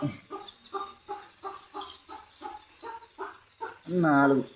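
Native country hens that are laying eggs cluck in a steady series of short calls, about one per half second, ending in a louder drawn-out squawk, close by.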